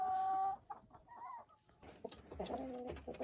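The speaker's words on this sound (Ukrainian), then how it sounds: "У мене тут ще кури є" Hens clucking and calling nearby, a few drawn-out squawks followed by short, choppy clucks, with a faint coo in the background.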